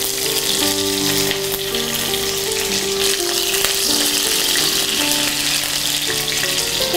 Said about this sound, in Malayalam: ഇനി കടുക് 1 ടീസ്പൂൺ കടുകെല്ലാം ഒന്ന് പൊട്ടട്ടെ നന്നായിട്ട്.